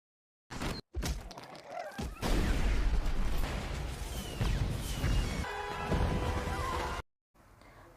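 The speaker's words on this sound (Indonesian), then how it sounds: "menyerang pasukan semut merah dengan semua senjata petasan mereka" Firecracker weapons exploding in the animated film Minuscule, an insect battle between ant armies: a run of loud crashing blasts and thuds with shattering debris, dense and continuous for several seconds after two short opening bangs.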